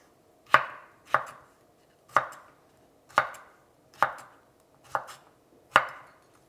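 A knife slices a cucumber on a cutting board at an angle for a Greek salad, giving seven crisp, sharp chops at a slow, even pace, close and clear with quiet between each cut.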